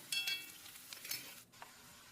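Onions and curry leaves sauté in oil with mustard seeds for brinjal ennegayi. The soft, faint sizzle comes with a few scrapes of stirring, then falls quieter near the end.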